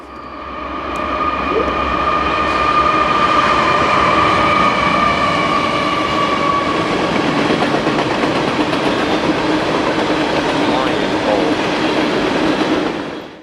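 A Norfolk Southern freight train rumbles past loudly and steadily through mountain cuts in Cassandra, Pennsylvania, its wheels clattering on the rails, with a long tonal squeal or horn-like whine fading partway through.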